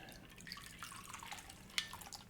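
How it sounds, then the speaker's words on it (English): Bee's Knees cocktail poured into a glass chilled with ice and ice water, heard as a soft, close trickle with small drips and one brief splash, quiet throughout. "Then you take your glass that has been chilled with ice and ice water in it and pour in your Bee's Knees."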